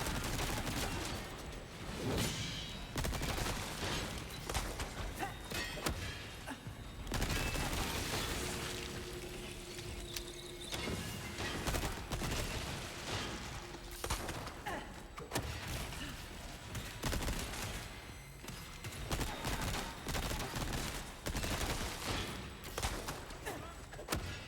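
Gunfire in Resident Evil 4: Separate Ways, a dense, continuous stream of shots and impacts mixed with game noise over the whole stretch, fairly quiet overall.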